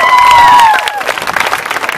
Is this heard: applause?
yes